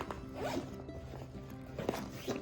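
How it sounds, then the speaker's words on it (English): Zipper on a Rynox Navigator motorcycle tank bag being drawn along its track, a close, rasping, quiet zipping that runs in a few short pulls with no talk. "there is a zip as well"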